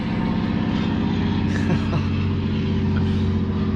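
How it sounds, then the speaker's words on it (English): An aeroplane drones overhead with a steady, broadband engine roar that holds fairly loud and unbroken throughout, with no voices present. "Of course there's an aeroplane."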